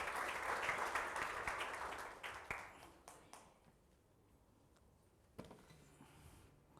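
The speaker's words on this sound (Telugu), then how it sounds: "అందరూ గట్టిగా చప్పట్లు కొట్టి ప్రభు నామమున కనపడదాం" A worship congregation breaks into loud collective clapping and applause that fades out after a few seconds, leaving quieter room sound and a few scattered claps, heard at a moderate distance.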